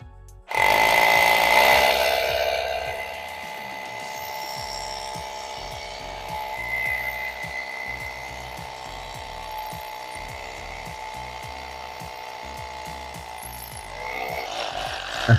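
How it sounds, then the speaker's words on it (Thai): Loud PUMPKIN H2-26 DFR rotary hammer drilling into a 4-inch concrete post, a harsh continuous pounding whir that holds steady for a long stretch after a loud start, no voices. "มาลองเจาะเสาขนาด4 นิ้วกันบ้างครับ"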